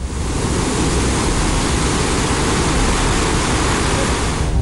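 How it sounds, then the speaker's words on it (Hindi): A swollen waterfall in Gujarat during days of heavy monsoon rain roars as a dense, steady, loud wash of falling water, unbroken and with no voices. "लेकिन झरने का ये हाहाकारी रूप लुभावना से ज्यादा डरावना लग रहा है।"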